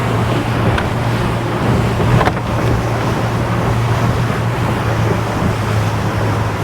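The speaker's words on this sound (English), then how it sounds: "This should be a good test of how well that cathedral hull copes in a wake." An electric RIB boat with a cathedral hull rides through a wake at sea, with steady water rush, wind buffeting and a low constant hum, plus a couple of brief thumps from hull slaps.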